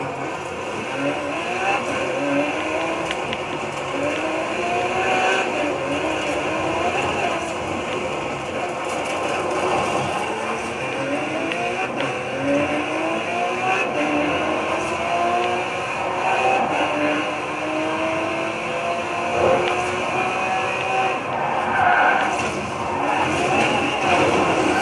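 Car driving in the video game Cyberpunk, a steady engine drone with repeated rising revs as it accelerates and shifts, continuous and fairly loud, with no talk.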